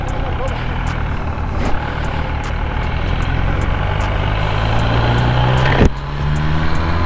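A 2020 MV Agusta Brutale 1000RR motorcycle engine under way, droning loud and close with a rising tone, then a brief blip as a gear shifts before the revs climb again.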